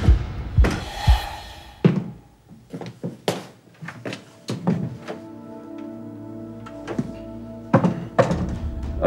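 Heavy repeated thuds of fists banging on a locked door, loud irregular blows in bursts with pauses, and a voice shouting in between.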